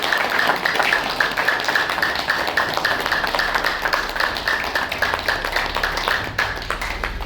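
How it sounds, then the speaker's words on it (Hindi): An audience at an Oshodhara meditation program claps loudly for the Hisar team: dense, steady applause running unbroken for several seconds with no voices over it. "एक बार जोरदार तालियां हमारी हिसार टीम के लिए।"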